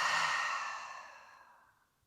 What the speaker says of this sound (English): Exhaling through your mouth.